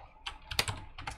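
Keys clatter on a computer keyboard in quick, uneven bursts, close and crisp, with a few louder clicks among lighter taps and no voices.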